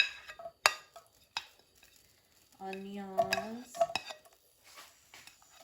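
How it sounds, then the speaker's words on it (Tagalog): Spring onions dropped into hot cooking oil while stir-frying eggplant, a few sharp utensil clinks and scrapes against a pan followed by a burst of sizzling with clattering, then quieter stirring. "Pag nalagay like ang mga pag mainit na ang cooking oil, ilagay natin ang spring onions"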